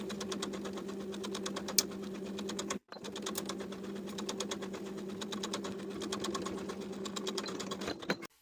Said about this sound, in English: Sew that one side of the collar stand in place from one side to the other